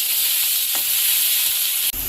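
Chopped onions frying in oil for an egg and broccoli curry, a steady close sizzle with a few soft stirring scrapes running throughout.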